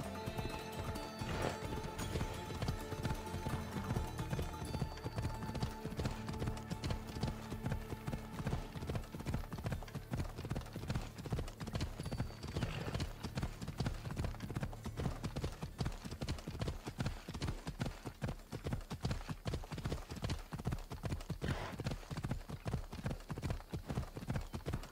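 Phobos, a horse in Assassin's Creed Odyssey, gallops in a steady, driving rhythm of hoof clops that runs without a break from start to finish over a dense backdrop of game music.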